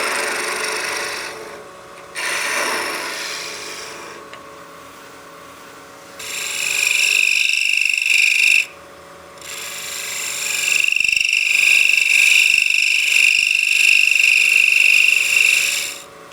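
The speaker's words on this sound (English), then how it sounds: "Just shear scraping that brim. It's getting fairly thin, so we're getting a lot of chatter." Wood lathe with a shear scraper cutting the thin brim of a large wooden witch hat: loud rasping scrapes in several passes separated by short pauses, with a high chattering whine as the thin wood vibrates.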